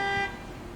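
A horn sounds in a horror story set at an abandoned bus station: a loud, sustained electronic blare that cuts off abruptly, leaving a low dark rumble.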